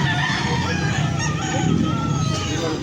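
Gamecock roosters at a fighting-cock sale in Angeles City crow and cluck amid a dense, steady din of many birds and crowd noise.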